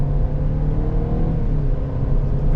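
A 2023 Hyundai Venue SEL with a CVT accelerating, its engine giving a loud, continuous droning rumble with a steady low pitch throughout, heard close and alone.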